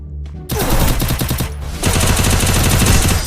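Rapid gunfire from the video game Free Fire, loud close bursts of automatic shots that start abruptly, pause briefly, then resume in a dense rattling stream.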